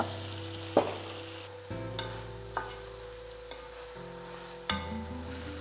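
Tomato and onion fry quietly in a pan for a Kerala-style anchovy thoran, under a soft steady sizzle broken by a few sharp clacks of a spoon stirring against the pan.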